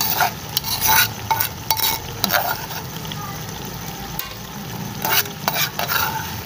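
Eggplant frying in a pan while being stirred, loud scraping strokes of a spoon against the pan over a constant sizzle, the stirring coming in irregular bursts with brief pauses.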